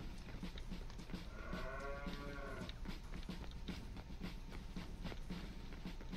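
Cows mooing in the toy-themed strategy game Attack On Toys: one drawn-out moo rises clearly over a busy, steady bed of game noise, with fainter lowing around it.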